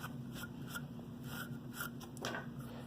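A cloth wiping metal filings off a Buck 110 knife blade on a KME sharpener, soft rhythmic rubbing strokes repeating about every half second, quiet and close with a faint background hum.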